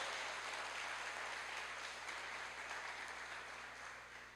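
Church congregation applauding during an Easter service, a steady broadband wash of clapping that holds at an even level throughout and tapers slightly at the end, with no voices standing out.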